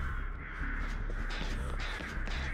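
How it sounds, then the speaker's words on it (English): Crows cawing in the horror video game Dead by Daylight, several rough caws over a steady noisy ambient bed, moderately close but fairly quiet overall. "Shut up, birds."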